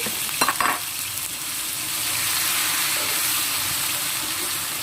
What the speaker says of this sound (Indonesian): Kita tumislah sampai masak